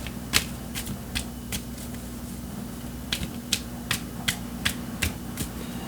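Tarot cards drawn and handled during a reading, giving sharp papery snaps and flicks in scattered clusters against a steady low hum, close and moderately loud, with no talking.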